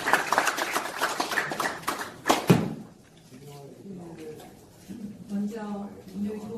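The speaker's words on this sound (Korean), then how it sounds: "큰 박수 부탁드리겠습니다." Audience at a debate forum on broadcasting law breaks into applause for about two and a half seconds, a dense burst of clapping that ends abruptly before a speaker begins talking at the podium.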